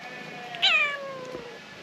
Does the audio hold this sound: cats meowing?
yes